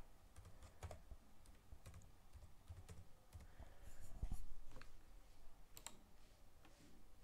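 Password being typed on a computer keyboard while mounting an encrypted volume: a quiet run of irregular key clicks and taps, with a slightly louder burst midway, and no talking.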